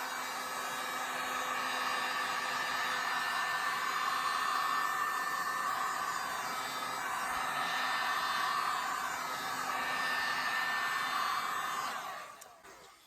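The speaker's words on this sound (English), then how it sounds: "I'm going to heat it up. Got to plug in the heat gun first." A heat gun blows over freshly poured resin in an ocean-style abstract pour, a steady close-up whooshing roar holding even for about twelve seconds before cutting off at the end.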